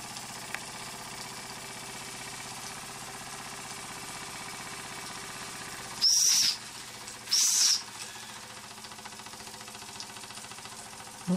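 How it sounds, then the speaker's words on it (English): A whistle on a Weeden 903 electrically heated model steam engine gives two short, shrill blasts, each under a second, close and loud over a steady low mechanical hum. "Not the best of whistles."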